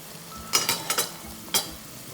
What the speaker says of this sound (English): So keep stir frying it until the tip of all of the shredded scallions turn into the shiny brown color